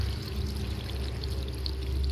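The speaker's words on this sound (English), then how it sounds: "We are actually pouring this in the motor of the car." Engine cleaner being poured into a car engine, a steady liquid stream running continuously and close up with no break.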